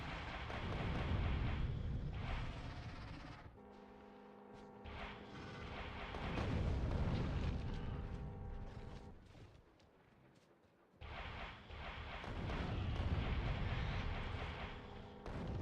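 Rockets from Factorio: Space Age exploding on alien nests: sustained rumbling barrages of dense, thundery blasts in two long bursts, separated by a quieter stretch of tonal game hum.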